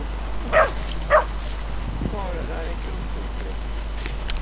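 Puppies bark in two sharp yips close by, followed by a softer run of whimpering yelps, over a low steady hum with outdoor background.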